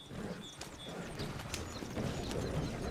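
Horse hooves clip-clop across ground in the Red Dead Redemption 2 video game, a steady close trotting rhythm with faint bird chirps scattered above.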